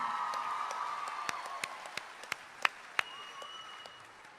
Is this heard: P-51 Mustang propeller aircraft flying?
no